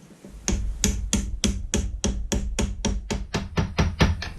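Hammer tapping a 21 mm socket to press a hub into a Solex drum, about fourteen sharp metallic blows in an even rhythm, close and loud, with no talking.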